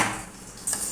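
Quick metallic clinks of a whisk or spoon against a bowl while yogurt is beaten with sugar, salt and cold water, close and brief with a steady soft scraping underneath.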